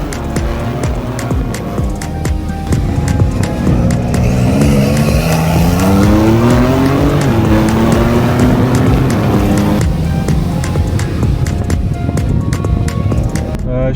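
A rally car slides through mountain hairpin bends, its engine loud and close with revving, gliding pitch changes as it drifts through the turns, and the sound stays continuous throughout with no talking.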